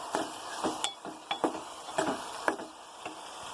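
Green chillies and onions are stirred in a pan: a spatula scrapes and clicks roughly twice a second over a faint sizzle, quiet and close, with no talking.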